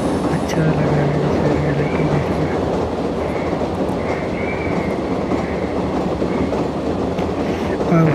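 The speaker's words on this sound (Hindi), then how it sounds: "चलो ट्रैक साउंड इतनी इसका कितना ज़बरदस्त अच्छा लग रहा है।" Jan Shatabdi Express train rolling along the track in the Indian Train Simulator game, a loud, continuous rumble with rhythmic clickety-clack and brief wheel squeal, heard throughout under a voice.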